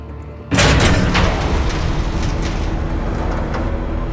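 The Skyrail train in the Batman: The Telltale Series video game sets off with a sudden loud boom, then a dense, heavy rumble that carries on steadily and close by.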